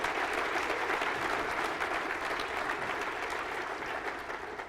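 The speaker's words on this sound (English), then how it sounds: "So let's give him a round of applause." An audience at a talk by a former FBI director gives a round of applause, dense steady clapping from a full room that holds for several seconds before easing slightly.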